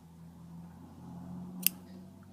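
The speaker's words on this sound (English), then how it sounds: "pick up your scissors," Scissors close once on yarn during crochet work, making a single crisp snip against a quiet room hum.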